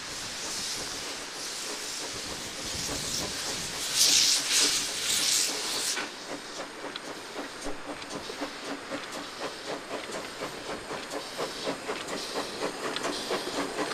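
A steam train on a narrow-gauge light railway hisses loudly, then rolls off with rhythmic chugging and clattering wheels as wagons are pulled from a shed, steady and close.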